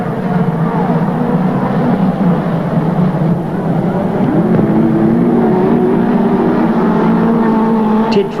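Midget race cars roar steadily around the Western Springs speedway track, engines droning and rising in pitch as they pass, with a commentator talking over the continuous loud engine noise.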